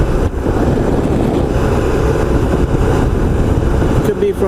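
A 1994 Honda ST1100 motorcycle cruising on the Long Island Expressway gives off a steady, dense roar of engine and rushing wind that stays loud and even throughout.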